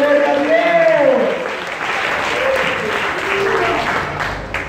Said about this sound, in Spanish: denle un fuerte aplauso al Rey de la Gloria a Dios